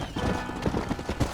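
Horse hooves clip-clop at a walking pace near a ranch stable in Red Dead Redemption, a run of evenly spaced, close hoof beats over a low game background.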